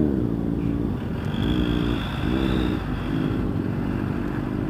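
Motorcycle engine rumbling and revving in steady waves with an exhaust that pops abnormally, loud and close, running continuously without talk.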